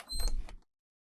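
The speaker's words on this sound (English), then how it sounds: "We're gonna open the door." A door opens in the video game Blackwell, a brief close scraping, creaking rush lasting about half a second before cutting to silence.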